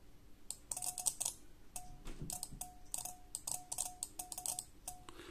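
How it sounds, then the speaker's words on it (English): A relay in a faulty Sonoff S26 smart socket gives quiet, sharp clicks in irregular quick bursts over several seconds, close and faint against a low background hiss. "you can hear the relay operates"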